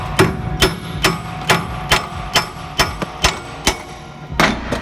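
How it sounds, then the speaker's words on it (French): A hammer strikes a suspension ball joint on a Volkswagen Golf 6 about ten times in a steady, evenly spaced rhythm, each blow a sharp, close metallic bang, with no talking. "Ce coup de marteau, c'est aussi efficace."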